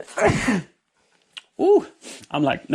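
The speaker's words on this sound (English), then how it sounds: "Might just be a casual sneeze." A single loud, close sneeze bursts out at the start, followed by a short pause and then quick spoken words.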